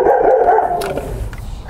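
A neighbor's dog barks loudly in a short run of close, rapid barks, with no talking.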